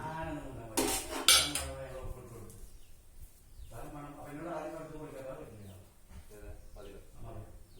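Crushed garlic scraped off a grinding stone into a dish, giving two sharp clinks of utensil against the dish early on, then faint scraping under a voice speaking.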